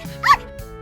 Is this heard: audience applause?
no